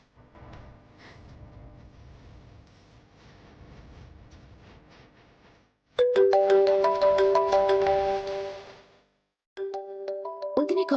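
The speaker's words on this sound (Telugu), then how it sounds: "నందిని కాల్ చేస్తోంది." A phone's incoming-call ringtone bursts out loudly with a bright repeating melodic tone. It cuts off briefly and then starts again, after a stretch of quieter background sound in a Telugu TV drama scene.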